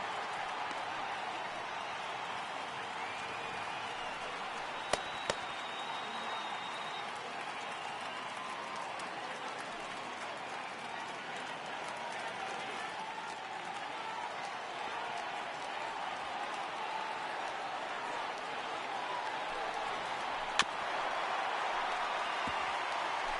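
A crowd of over 39,000 at an MLB baseball game between the Rays and Orioles stands and cheers as Tampa is down to its final strike, a steady, broad roar with a few sharp bangs and a play-by-play voice talking over it.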